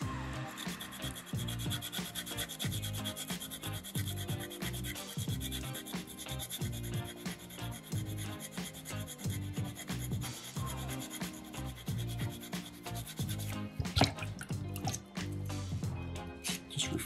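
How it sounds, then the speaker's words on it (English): Folded sandpaper rubs over a soapstone cat carving, refining the paw lines with quick, repeated close-up scratching strokes in a steady rhythm. "Fold that sandpaper up a bunch of times again, make it a little bit thicker, a little bit more rigid, so it does that work a little better for you."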